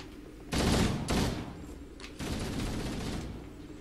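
Loud bursts of gunfire from the video game Halo: Combat Evolved: two heavy volleys, a brief gap, then a sustained stretch of rapid fire, close and dense with no talking.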